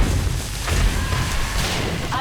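Explosions in the zombie survival game 7 Days to Die with the Darkness Falls mod, a run of dull, muffled booms and thuds rumbling continuously under a talking voice.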